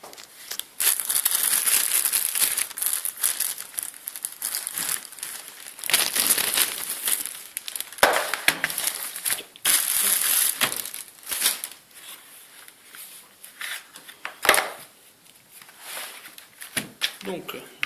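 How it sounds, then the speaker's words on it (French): Crinkling and crumpling of plastic packaging as a computer keyboard is unwrapped, close by, in bursts with short pauses, with a sharp crackle and some tearing as it is pulled free. "on va sortir ce clavier de son emballage"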